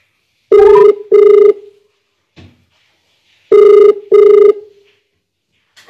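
A telephone call rings back in loud paired bursts, two rings, a pause, then two more, with near silence between them.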